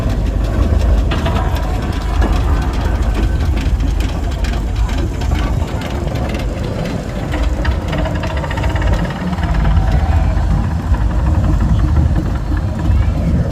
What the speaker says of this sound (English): So now we have the first of two Foden steam wagons.